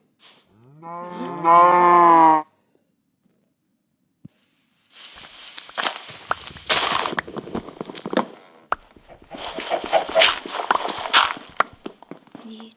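Cow mooing in a block-building video game, one long loud moo followed by silence, then bursts of footsteps and clattering game effects, with no talk.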